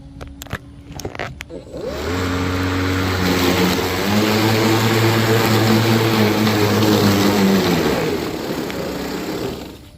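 A Badger 40V electric lawnmower starts with a few sharp clicks, then its motor spins up into a loud, steady harmonic whine as it cuts through thick weeds, and the sound eases off near the end.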